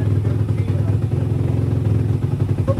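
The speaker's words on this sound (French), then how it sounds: "Donc, comme tu vois, la moto redémarre." A YCF Bigy 190 Daytona motorcycle engine runs after restarting, a steady close, loud chugging idle with rapid firing pulses and slight rev fluctuations throughout.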